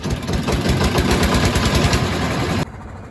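A trawler boat's engine chugs loud and close in a steady rapid rhythm while crossing floodwater, then cuts off sharply near the end.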